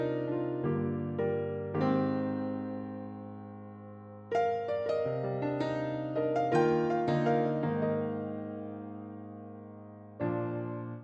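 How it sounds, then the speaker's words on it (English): Giant Kontakt sampled piano playing a slow, emotional pattern of sustained chords and single notes, each strike decaying softly into the next, clean and alone without any voices. "the Giant, which is a perfect piano if you want like a different sounding piano"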